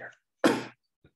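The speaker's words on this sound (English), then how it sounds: "sorry, I've been coughing." A single short, harsh cough from a man recovering from COVID, close and fairly loud, preceded by a brief voiced fragment and followed by a faint breathy sound.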